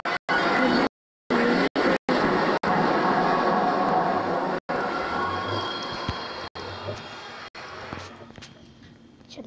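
Minecraft nether portal ambience: a loud, steady, whooshing rumble much like a passing train, broken by several brief dropouts, then slowly fading, with a voice talking over it.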